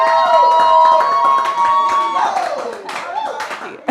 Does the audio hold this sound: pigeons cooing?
no